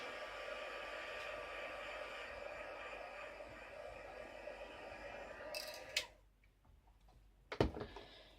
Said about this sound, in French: Je vous conseille de mettre un petit coup de séchage. Je suis désolée, ça va faire du bruit.